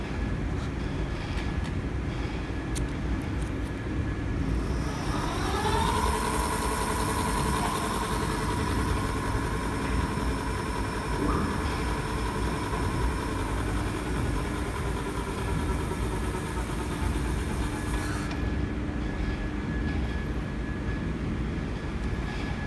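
A Cyrusher XF800 electric bike's hub motor spins up under throttle, its whine rising and holding steady for about thirteen seconds before cutting off, over a constant background hum.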